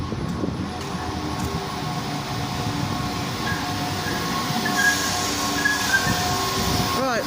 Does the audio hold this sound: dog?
no